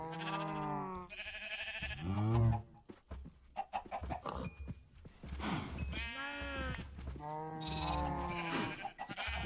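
Farm animals, cows among them, in the Minecraft modpack FTB Skies Expert: a series of loud, drawn-out animal calls close by. The calls come in several separate bursts with short gaps between them.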